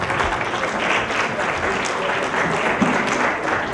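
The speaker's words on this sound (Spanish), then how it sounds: "Los despedimos con un fuerte aplauso." Audience applause closing a panel session at a Mexico City forum, a dense, steady clapping that fills the whole stretch at even loudness, with no speech over it.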